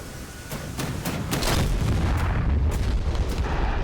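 Laser-guided bombs dropped from an F/A-18 Hornet burst on ground targets in DCS World, a sustained rumbling roar of heavy explosions that swells and holds loud across the whole stretch.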